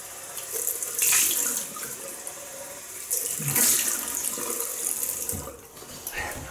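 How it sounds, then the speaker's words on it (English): Cold tap water runs and splashes in a sink while a Gillette long comb double-edge razor is rinsed, a steady close hiss with brief louder surges as the blade passes under the stream. "We'll have another cold water rinsing."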